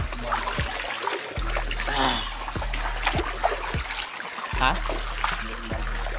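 Water rushes and splashes steadily near a waterfall on a stream, a continuous loud flow under people talking over it, with low thumps from footsteps or wind bumping through.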